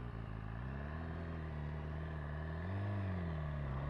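A 2017 BMW S1000RR engine hums steadily in third gear at low speed on a test ride, an even close-up drone that swells slightly near the end as the throttle opens.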